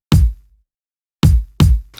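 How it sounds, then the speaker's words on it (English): A hard, unprocessed kick drum sample hits three times, each a punchy, booming thump with a quick decay, heard alone with short gaps between strikes. "So the kick on its own sounds something like this."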